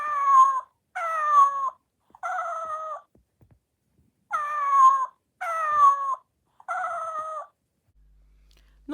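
A Japanese robotic pet, stroked continuously along its chest, answers with six close, clear, synthetic meow-like calls in two groups of three, each call gliding and wavering, followed by quiet.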